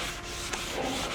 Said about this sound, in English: So now it needs to be sanded until it's really smooth.